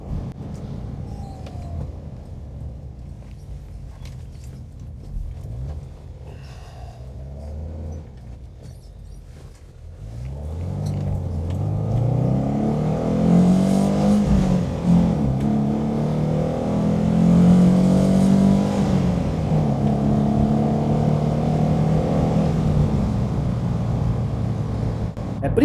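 Alfa Romeo Giulia 105 engine rises through the gears, a quiet opening giving way at around ten seconds to loud, sustained revving with intake noise dominating, pitch climbing and dropping with each gear change, and no speech over it.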